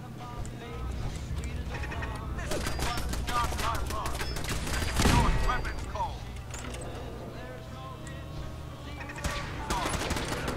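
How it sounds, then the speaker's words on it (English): Automated turrets fire in the Fallout 76 video game, rattling off rapid bursts of gunshots in the background while someone talks over the action. "Careful, turrets! I'm getting shot!"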